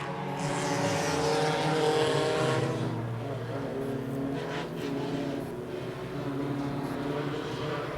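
Race cars at Wiscasset Speedway roar loudly as the field accelerates away at the green flag, a dense sustained engine drone with rising revs and a steady wall of noise throughout.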